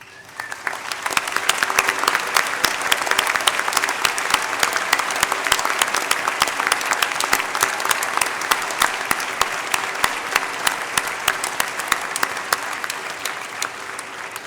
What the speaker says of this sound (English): join me in applauding these outstanding students